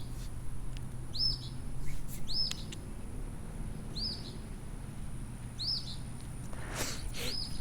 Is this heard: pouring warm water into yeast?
no